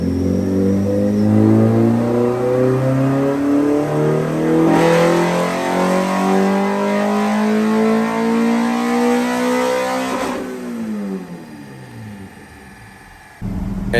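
A Honda B16A engine on a dyno climbs steadily through the revs in one long, loud, close pull, its pitch rising for about ten seconds before it drops off and winds down.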